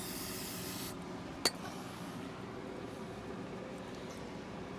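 Brake cleaner sprayed onto trailer wheel bearing parts, heard as a steady faint hiss with one brief sharp click partway through.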